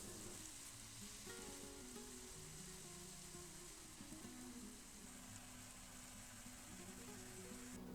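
Filling for stuffed peppers, with salt and dried basil, frying in a pan over medium heat gives a steady, dense sizzle that runs unbroken throughout, with low background sounds beneath it.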